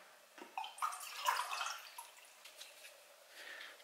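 Plain water is poured into a container, producing a faint, close splashing trickle that swells briefly and then settles into a light, steady flow.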